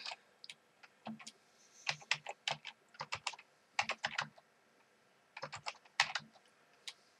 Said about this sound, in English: we're going to type the command again.